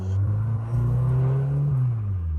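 Skoda Rally Sport car engine idling and revving gently up close, a steady low rumbling drone that rises slightly in pitch midway and then settles back, with no talking over it.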